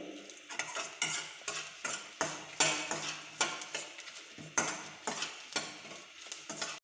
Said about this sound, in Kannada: ಚೆನ್ನಾಗಿ ಹುರಿಬೇಕು. ಇದಕ್ಕೆ ಸಾಸಿವೆ ಕಾಳು ಹಾಕ್ಕೊಂಡಿದ್ದೀನಿ.